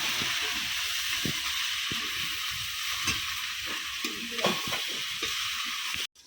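A corn dish with neem leaves and chutney sizzling in a pan while being stirred, steady close frying hiss broken by scraping spoon strokes, with no talk, ending abruptly.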